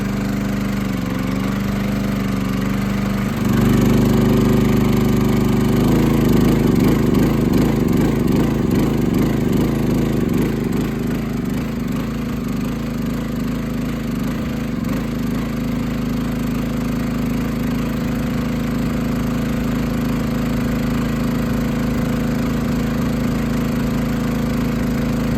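A ported Husqvarna 61 chainsaw engine runs steadily with the choke left on, its loud, continuous drone rising slightly after a few seconds and holding a rough, even note throughout.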